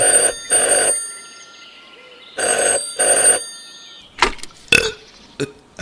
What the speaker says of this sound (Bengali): টেলিফোনটা ঝনঝন করে বেজে উঠল